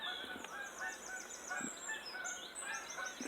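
Geese honk repeatedly in a loose chorus, fairly distant and faint, with overlapping calls throughout.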